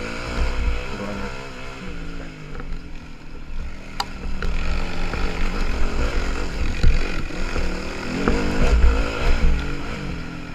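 A dirt bike engine runs steadily on a muddy trail loop, its loud continuous drone rising and falling with throttle changes as the bike is ridden.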